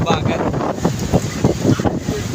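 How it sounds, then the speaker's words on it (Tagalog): Strong storm wind buffets the microphone in loud gusts over the lake at Binangonan while waves churn underneath, and a voice speaks through the noise. "Napakalakas ng hangin tsaka ang alon dito sa ating lugar sa Binangonan."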